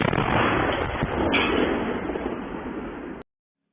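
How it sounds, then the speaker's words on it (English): A drone crashing and exploding in an open cornfield gives a loud, sustained roar of blast noise lasting about three seconds before cutting off abruptly to silence. "a huge explosion takes place as this drone crashes"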